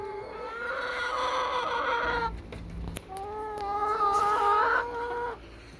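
Hens cluck and warble nearby in drawn-out, rising calls, one stretch after another, with brief scuffling between them and no speech.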